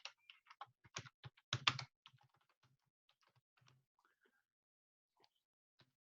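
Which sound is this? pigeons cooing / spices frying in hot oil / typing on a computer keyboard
typing on a computer keyboard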